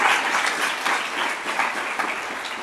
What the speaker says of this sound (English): they applauded when I cried